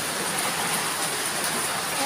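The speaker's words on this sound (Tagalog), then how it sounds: "Gabi na umuulan, tulo ang bubong, oh." Heavy rain pouring at night onto a leaking roof with a broken gutter, a loud dense unbroken roar of water filling the space, steady and close throughout.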